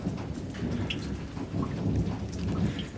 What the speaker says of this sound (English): And it's still slowly raining.